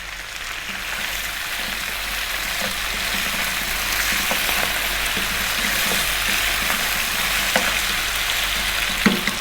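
Cumin seeds and fresh curry leaves fry in hot oil for a lamb curry, a steady broadband sizzle and crackle running throughout, close and fairly loud, with occasional sharper pops and spits near the end.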